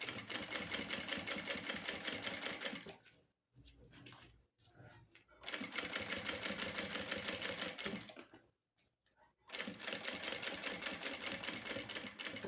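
Sewing machine running in bursts as it puts a second line of topstitching on a pouch. Fast, steady stitching rattles for a few seconds at a time, with short quiet gaps and soft handling noises between runs.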